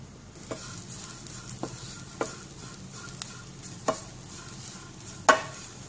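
Grated coconut roasts in a pan for okra curry, giving a soft, steady sizzle broken by a spoon scraping the pan about every second, with one sharper scrape near the end.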